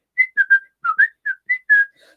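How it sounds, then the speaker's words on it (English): A woman whistles a cheerful tune alone while driving home from a holiday, a string of short bright notes rising and falling in quick phrases with brief gaps between them. "She was whistling happily"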